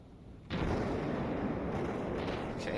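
Warship guns in the naval strategy game Task Force Admiral open up with a sudden loud blast, followed by a sustained dense roar of continuous gunfire rumbling on without pause.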